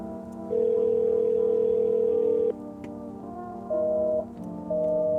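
Telephone tones after a number is dialed: a long steady electronic tone, then a pause and two shorter tones, clean and close without any talk.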